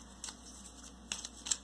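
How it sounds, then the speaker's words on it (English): Tarot cards being shuffled by hand, giving a few soft, brief riffling bursts against a quiet background. "I've been shuffling these cards for a while."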